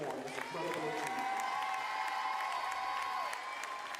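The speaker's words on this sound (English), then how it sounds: "Let us join together in a resounding round of applause to cheer and honor Coach Moore" Steady crowd applause and cheering honoring a volleyball coach at a women's NAIA volleyball match, a sustained wash of clapping with a few whoops, moderately distant, with a voice speaking over it.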